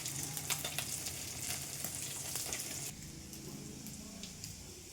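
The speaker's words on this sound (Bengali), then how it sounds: "কালো জিরে ফোড়ন দিলাম" Nigella seeds dropped into hot oil in a pan crackle and sizzle loudly and steadily up close, the spitting easing slightly partway through, with no voices.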